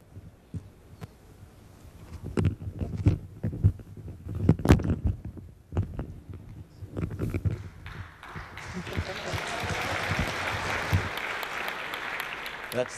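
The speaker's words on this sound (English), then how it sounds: "That's the cheapest applause I'll get all day" Audience at the Google Developer Day 2010 conference, scattered thumps and bumps giving way to a steady wash of applause building in the hall.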